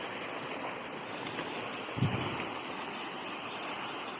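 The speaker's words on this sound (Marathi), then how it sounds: "आता आपण एकदम धबधब्याच्या जवळ आलेलो आहे" A village waterfall rushes nearby, a steady broad roar of falling water with a slight gust of wind, no voices.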